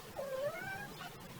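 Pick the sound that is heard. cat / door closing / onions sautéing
cat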